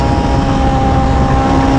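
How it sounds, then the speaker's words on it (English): Race car powered by a Hayabusa motorcycle engine running at high revs on a circuit, a loud, sustained drone with a steady tone and no speech. "This Hayabusa engine is absolutely smashing it around the track."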